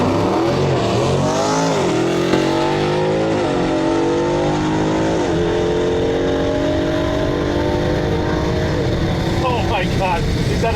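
A Dodge Challenger Hellcat on slicks accelerates hard down a quarter-mile drag strip, its engine roaring loud and continuous with pitch sweeping upward through gear changes for the whole stretch.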